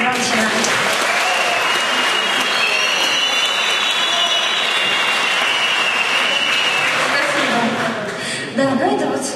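Concert audience applauding loudly and continuously, a dense wash of clapping with crowd noise and voices mixed in, easing slightly near the end.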